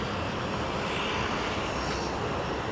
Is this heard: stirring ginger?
no